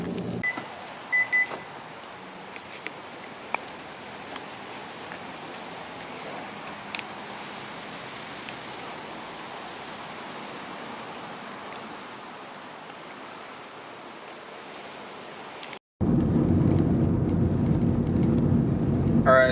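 Rain falls steadily outside a car, a continuous close hiss of drops that holds for a long stretch before a sudden brief cutoff and a louder, rougher wash of rain noise.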